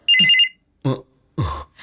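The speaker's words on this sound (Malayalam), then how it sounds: "ബെല്ലിന്റെ ശബ്ദം കേൾക്കുമ്പോ തന്നെ വിളിക്കുന്നതാണെന്ന് മനസ്സിലാവൂ" A telephone bell rings loudly in a home setting in a TV drama, one short burst of bright trilling tone followed by a few brief, separate sounds.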